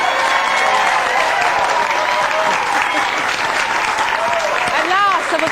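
An audience applauds steadily to welcome a guest onto a television show stage. The dense clapping fills the whole stretch at a strong level, and a voice comes through briefly near the end.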